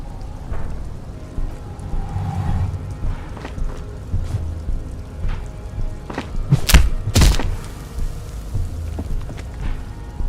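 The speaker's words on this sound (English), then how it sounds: "The man lands with a dull thump, like a broken-down puppet of muscles and sinew." A man's body landing with a dull thump in the video game Disco Elysium, a couple of sharp heavy thuds standing out over a low ambient background.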